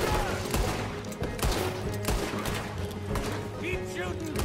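Gunfire in Red Dead Redemption II, a rapid scatter of sharp shots in bursts over game music and ambience, with brief voice fragments mixed in.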